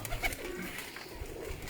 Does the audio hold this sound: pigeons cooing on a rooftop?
yes